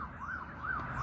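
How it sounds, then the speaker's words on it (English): A police car siren wails in a rising and falling sweep over a steady background rumble of road noise, heard close and alone without talk. "there's a police car."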